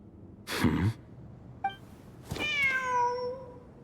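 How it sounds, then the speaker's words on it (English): A cat in the Genshin Impact video game gives one clear, rising-and-falling meow near the end, preceded by a short breathy puff and a faint blip, against an otherwise quiet background. "There's a cat."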